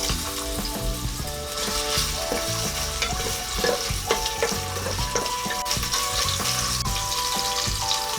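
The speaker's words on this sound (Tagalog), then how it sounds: "Ngayon, pwede na nating igisa itong ating pinitpit na luya." Crushed ginger sizzles and fries steadily in a hot pan for kansi, with a constant crackling hiss and occasional stirring clinks, loud and close with music playing underneath.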